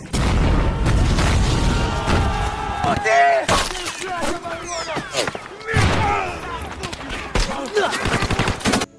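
Bursts of rapid gunfire and heavy booming mortar blasts, loud and chaotic, with crackling shots and echoing impacts under shouting voices.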